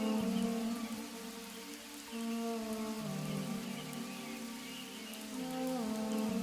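Steady rain falls on a surface, a continuous hiss of drops beneath sustained musical tones, with no voices present.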